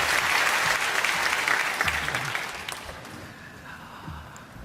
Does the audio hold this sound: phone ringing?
no